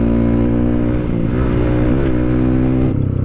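A Honda CRF supermoto with a 200cc bore-up engine accelerates hard, its loud, steady engine note rising in pitch with gear changes and no talk over it.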